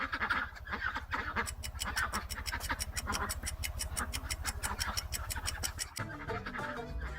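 A duck quacks in a quick, repeated run of nasal calls, fairly close and clear, with a brief shift in the background near the end and no talking.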